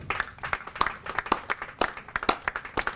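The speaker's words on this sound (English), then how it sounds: "Please join me in a round of applause for the entire staff here at Training Center Cape May" Clapping for the staff at a Coast Guard recruit graduation ceremony at Training Center Cape May, sharp individual claps from a small group at close to medium distance, uneven in rhythm.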